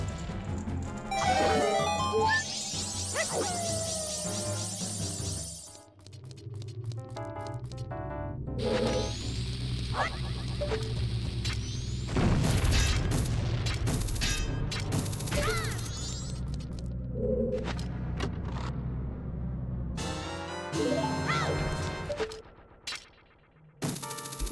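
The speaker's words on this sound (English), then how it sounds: "Now I can blow up this bombable wall and the crate with the stray fairy in it with one bomb." A bomb goes off in Majora's Mask, blasting open a bombable wall and a crate holding a stray fairy, with a loud crashing burst amid game music and chimes.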